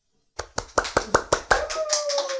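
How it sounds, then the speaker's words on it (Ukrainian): Hand clapping starts after a brief silence as a few close, distinct claps and builds into a denser round of applause from a small group of guests. "А ми аплодуємо?"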